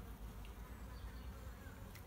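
Honeybees buzzing around an open beehive during a beekeeping inspection, a soft, steady insect drone lasting about two seconds, faint and continuous with no speech.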